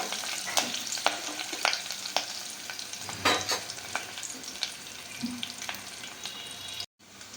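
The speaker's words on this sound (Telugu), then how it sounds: "చిట్టపట్టాలు ఆడుతుంది చూడండి పోపు" Curry leaves and crushed onion spluttering in hot oil for a tempering, a dense crackling sizzle punctuated by sharp pops and spoon scrapes, close up, with no voices before a sudden cutoff at the end.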